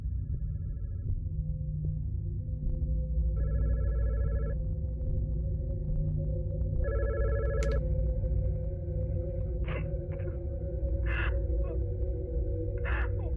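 An old-style telephone bell in the horror game Mask of God's Basement rings in repeated short bursts, steady and somewhat distant, over a constant low rumble, later joined by brief scattered noises.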